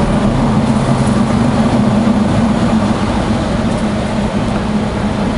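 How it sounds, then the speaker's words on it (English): A 6000 Series air seeder's calibration motor turns the metering system during a functional test, making a steady, continuous mechanical hum with a low droning tone that holds level throughout, close and without speech. "Our calibration motor will turn the metering system."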